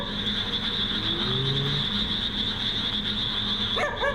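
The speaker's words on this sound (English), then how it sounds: "Barking dog in the cemeteries." A dog barks in a graveyard at night, sounding distant under a steady drone of insects or ambient noise, with a brief sharper sound near the end.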